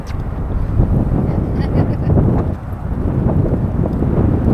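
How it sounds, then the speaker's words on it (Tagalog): Wind gusts beside a motorway, buffeting the microphone with a continuous low roar that swells and dips slightly over several seconds. "Hangin. Hangin guys."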